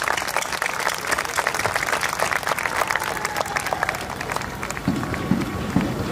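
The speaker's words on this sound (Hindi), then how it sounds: "लेकिन एक दफा जोरदार तालियों से इस्तकबाल करें" Steady applause from a large crowd at a fundraising program, continuous clapping throughout, with faint voices and some rhythmic stamping mixed underneath.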